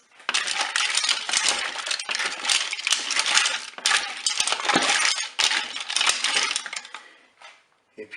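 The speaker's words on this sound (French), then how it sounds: "Je vais replonger mes moules dans la sauce. Je vais mélanger tout ça." Mussels being stirred in a saffron sauce in a pot, a steady clattering of shells and metal with rattling clinks, fairly close and continuous, easing off toward the end.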